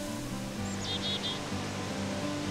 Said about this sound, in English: It's Sherman Falls, one of many waterfalls that can be found on the trail.